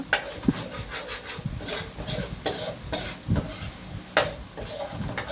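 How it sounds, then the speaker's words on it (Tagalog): Coconut milk frying into browning latik in a pan with the separated coconut oil, stirred repeatedly: a steady close sizzle broken by scraping strokes and a few sharp utensil knocks against the pan, with no talking. "Lapit na pong maluto ang ating latika. Ayan, nag-brown na siya."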